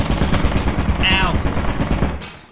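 A turret in the video game Lethal Company fires a rapid, continuous burst of automatic gunfire, loud and close, with a brief metallic whine in the middle of the rattle.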